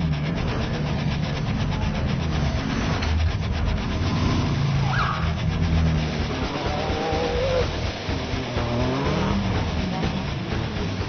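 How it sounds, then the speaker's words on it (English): Off-road race cars from a field of about fifteen running a dirt track at the Flinders 400, a steady loud engine roar with shifting revs and no pauses throughout. "We've still got a good field of about 15 cars and the pace is on."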